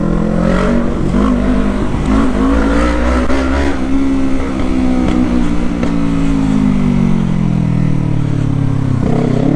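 A Yamaha MT-25 motorcycle with its exhaust removed revs hard and loud up close, a raw, rasping engine note that climbs and holds high before dropping back near the end, with no talk over it.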